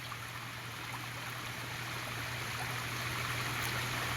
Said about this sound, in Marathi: इथे एक मस्त लहानसा ओढा आपल्याला वाहताना दिसतोय. मस्त शांत खळखळत वाहतोय